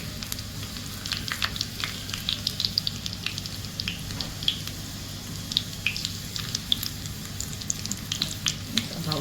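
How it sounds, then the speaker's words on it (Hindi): Garlic sizzles in hot oil as a tempering for dal makhani, a soft steady frying hiss dotted with little crackles and pops while a spoon stirs it, fairly quiet and without talk. "तो हम गार्लिक को बहुत लाइट सा गोल्डन होने तक स्टर करते हैं।"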